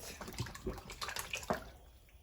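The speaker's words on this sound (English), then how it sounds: "I'm gonna add a little bit more water in it" Water splashes and trickles faintly into a pot of Jamaican cornmeal porridge in a home kitchen, in short uneven pours close by.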